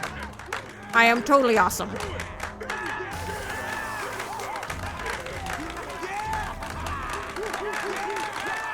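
A crowd in the game Batman Arkham Asylum cheers and claps in a steady, moderately loud wash, with a voice speaking briefly over it near the start.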